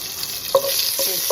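Bay leaves and dried chillies frying in a little oil in a kadai, a steady close hiss with a few brief scraping stirs breaking through.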